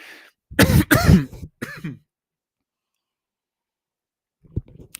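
A close, harsh cough with a throat-clearing rasp, two or three heavy bursts, followed by silence and a faint click.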